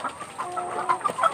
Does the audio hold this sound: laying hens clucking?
yes